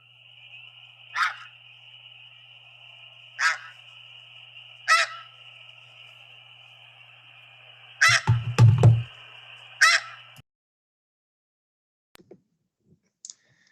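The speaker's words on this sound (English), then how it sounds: "the snow goose is kind of known as having that one syllable call" Isolated snow goose calls, a handful of sharp single-syllable honks spaced a second or two apart over a steady low hum, a tight cluster near the end, then near silence.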